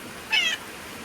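A child imitates a cat with one short, high meow, clear against quiet background hiss.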